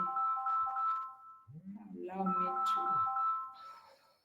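A mobile phone ringtone plays a short tonal melody during a talk, its notes sounding while someone speaks over it at close range.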